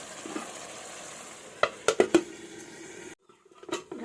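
Mutton sautéing with spices in a pot, a low sizzle with a few sharp spoon scrapes and clanks against the metal, a brief silence, then more stirring knocks.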